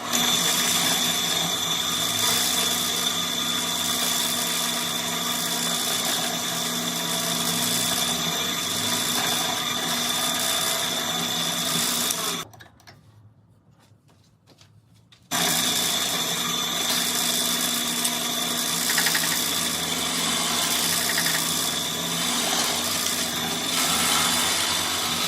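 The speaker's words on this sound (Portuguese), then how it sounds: "Aqui nós vamos utilizar uma serra-copo de 18 milímetros de diâmetro." An 18 mm hole saw on a power drill cutting steadily with a loud, continuous whirring grind, broken by a brief near-silent pause midway before the cutting resumes.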